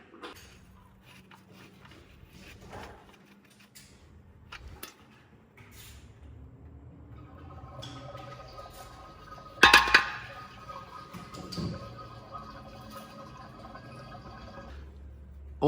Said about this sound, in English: Right now we have to unscrew the drain plug.